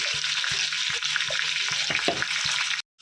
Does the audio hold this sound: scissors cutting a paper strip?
no